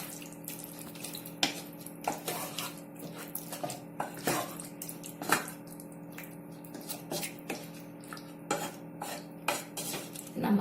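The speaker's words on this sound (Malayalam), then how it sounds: "ഇനി 1/2 ഗ്ലാസ് വെള്ളം നമുക്ക് ഇതിലേക്ക് ഒഴിച്ചു കൊടുക്കാം. ഇനി നന്നായിട്ടൊന്ന് മിക്സ് ചെയ്ത് കൊടുക്കാം." Metal spoon scraping and clinking against a pan while pepper chicken curry with added water is stirred, a steady run of soft knocks and scrapes with a light watery slosh, close and moderately quiet.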